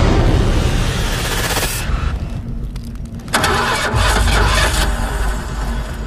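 A car engine starting in the BGMI battle royale game, a loud cranking rumble that catches and settles into a steady mid-pitched idle and revving, close and prominent, with no talking.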